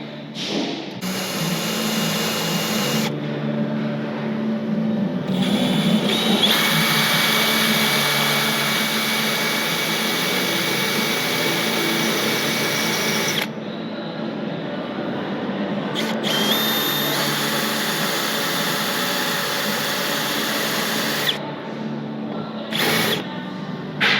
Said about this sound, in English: I've just used that drill there just to get a start